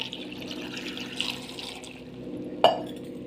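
Water pours and splashes into a pressure cooker holding cut potato pieces, a soft liquid gurgle ending with a sharp metallic clink, close up and without speech.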